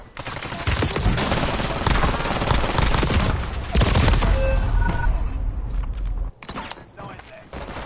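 Dense gunfire from a Call of Duty Warzone battle royale match on Rebirth Island, with rapid automatic bursts and booming shots running loud and continuous, then a brief drop before more fire resumes.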